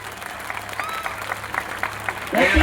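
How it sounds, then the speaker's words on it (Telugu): Spectators at an anti-drug cycle rally event in Amadalavalasa applaud under a speaker's amplified voice, the clapping growing louder and fuller toward the end. "గట్టిగా చప్పట్లు కొట్టండి."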